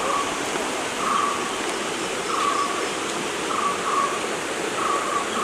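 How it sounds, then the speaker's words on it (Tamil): Water from a forest waterfall near Chikmagalur flows under a bridge as a steady broadband rush, with faint birdsong chirping at regular intervals above it. "தண்ணி வருது பாருங்க. அதேமாதிரி அந்த வாட்டர் ஃபால்ஸ்லேருந்து தான் வரும்னு நினைக்கிறேன்."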